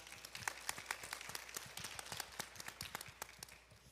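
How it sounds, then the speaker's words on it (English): Town hall audience at a domestic violence meeting applauding the panelists, a dense patter of many hands clapping at once, moderately distant and fairly quiet, with no talk over it. "Let's give our panelists a round of applause, y'all."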